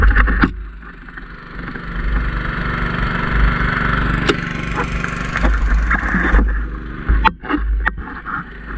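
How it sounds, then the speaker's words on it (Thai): A boat engine runs steadily at close range throughout, a continuous low mid-pitched drone with no voices, heard during a spearfishing outing on Huai Nam Mong in Tha Bo. "นักกบขับเรืออยู่ข้างหลังคุณ"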